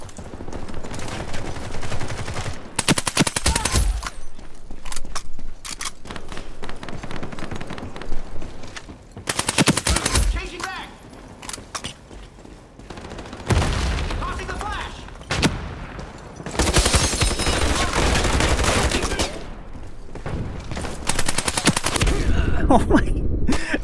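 VSS rifle gunfire in the video game Ironsight, several loud bursts of rapid suppressed shots separated by quieter stretches of game ambience, with a player talking at times.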